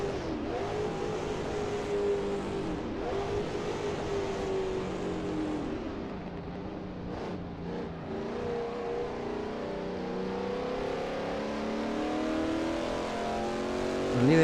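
A 1939-era Grand Prix race car in Assetto Corsa at Chimay, its engine revving loudly and continuously, pitch climbing and dropping through gear shifts as the car accelerates.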